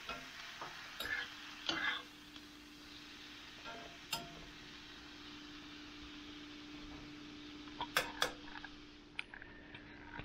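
Chanterelle mushrooms cook down in a pan with a soft, low sizzle, broken by a few sharp clicks and taps of utensils against the pan.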